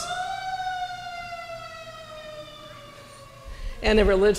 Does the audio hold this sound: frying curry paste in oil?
no